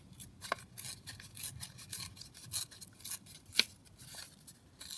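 Paper label being torn around by hand in a series of short, dry ripping and scratching bursts, close and fairly quiet, irregular with a sharper tear near the end.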